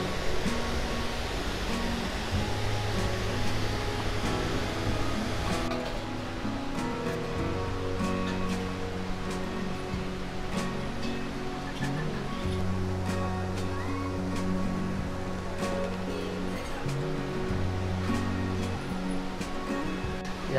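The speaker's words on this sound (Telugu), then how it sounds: "ఈ వాటర్ఫాల్ మాత్రం చాలా బాగుంది." Bogatha Waterfalls in Telangana rush as a steady, loud, broadband roar of falling water that holds constant throughout, with a few faint low hums underneath.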